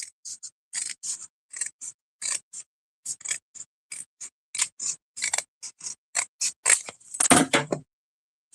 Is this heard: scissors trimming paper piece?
yes